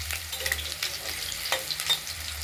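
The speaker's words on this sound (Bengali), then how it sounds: "এই আলুগুলো আমরা কড়াইতে তেল গরম করে আগে প্রথমেই ভেজে নিচ্ছি।" Potatoes fry in hot oil in a kadai with bay leaf, dried red chili and cumin, giving a steady soft sizzle broken by scraping stirs from a spatula, close and fairly quiet.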